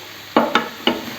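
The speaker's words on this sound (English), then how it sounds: "I have been sauteing this vegetable for about 30 seconds." Vegetables with chili flakes, coriander powder and mango powder being stirred and sautéed in a pan, with three quick scraping stirs over a soft background sizzle.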